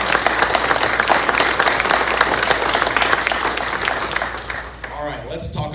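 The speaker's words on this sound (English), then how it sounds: "Can we give them a round of applause for that?" A room of attendees at a county legislative update meeting gives a loud, sustained round of applause for about five seconds, thinning out as a voice begins speaking at the end.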